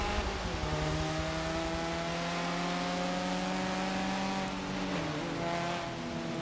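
A 1987 Ford Sierra Cosworth RS500 races in Forza Motorsport 7, its engine droning steadily at high revs with a sustained tonal whine and slight pitch shifts, loud and continuous with no talk.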